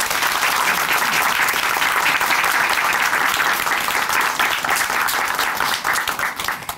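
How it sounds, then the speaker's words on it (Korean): A studio audience at a Korean Christian television testimony program breaks into loud, sustained applause. The clapping is dense and even, with no talking over it, and tapers slightly near the end. "오늘 귀한 간증 들려주신 배영숙 자매님께 다시 한번 감사의 박수 보내드립니다"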